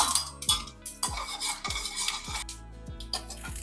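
Fenugreek, cumin and black peppercorns fry in a hot pan, with repeated clinks and scrapes of a metal spoon stirring them and a faint sizzle underneath, loud and close with no talk.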